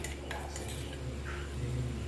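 Spice powder being stirred into poha in a cooking pan, with a utensil scraping and clinking against the metal in a steady, close run of stirring.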